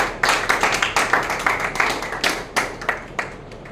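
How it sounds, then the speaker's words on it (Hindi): Rhythmic clapping, sharp distinct hand claps at a lively roughly even pace, close and clear with no talking, from an audience at a spiritual discourse. "आपको ताली बजाना चाहिए इस बात पर"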